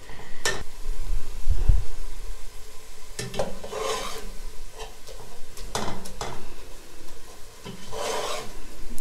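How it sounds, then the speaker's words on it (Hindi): A spoon mashes soft cooked tomatoes in a pot for kabuli pulao, giving repeated scraping, rasping strokes in irregular bursts, fairly close and loud, with no voices. "इस तरीके से हम स्पून के साथ हल्का सा इसको मैश कर लेंगे"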